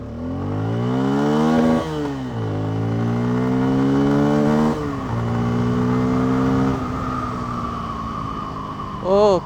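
A Bajaj Pulsar N250 motorcycle accelerates hard through several gears, its engine rising in pitch repeatedly with brief dips at each shift, loud and close with wind noise.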